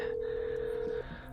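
A telephone ringback tone on an outgoing call, one steady ring lasting about a second before cutting off into a quiet line with faint background hum.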